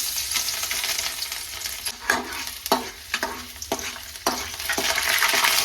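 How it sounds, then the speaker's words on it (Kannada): Garlic fries in hot oil in a kadai with a steady bright sizzle, broken by several sharp scrapes and clinks of a spoon stirring, close and fairly loud, with no talking. "ಇವಾಗ ಇದ್ರೊಳಗಡೆ ನಾನು ಬೆಳ್ಳುಳ್ಳಿನ ಹಾಕೊಳ್ತೀನಿ."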